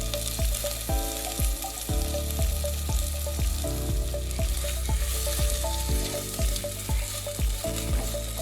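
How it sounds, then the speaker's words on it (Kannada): Chopped medium onions frying in a pot, a continuous hiss of hot oil with regular scraping stir strokes about once a second, close and steady, with no talking. "ಆನಿಯನ್ ಚೆನ್ನಾಗಿ ಫ್ರೈ ಆಗಬೇಕು."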